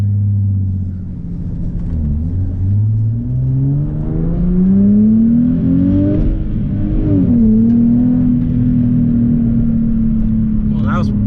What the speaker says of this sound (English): Engine's really responsive.